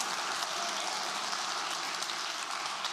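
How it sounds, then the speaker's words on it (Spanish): Steady, dense clapping from a church congregation, sustained evenly across the whole stretch with no pauses. "Un grande aplauso para los padres."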